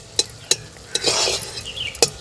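Veg patties fry one at a time in a small amount of oil, giving a soft sizzle broken by a few sharp clinks of a utensil against the pan.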